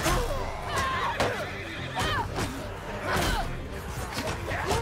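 A horse in Mount and Blade Bannerlord whinnies several times as it goes down amid battle clatter and crashing, with a voice talking under the din.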